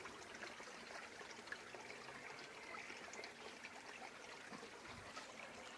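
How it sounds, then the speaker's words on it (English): Water trickling and flowing in a stream beneath a bridge in a country village, a soft, continuous babble heard faintly and steadily with no voices over it. "You hear the water too."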